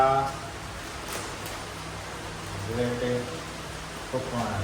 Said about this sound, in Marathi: मस्त असा पाऊस सुरू झालेला आहे